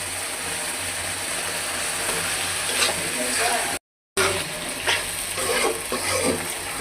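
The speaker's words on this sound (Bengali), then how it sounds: "মশলাটা কষানো হয়ে গেছে, এখন আমি বটগুলো দিয়ে দিব।" Beef tripe tossed into spice masala and stir-fried with potatoes, a steady close sizzle with scraping and clattering stirring, broken by a brief cut of silence midway.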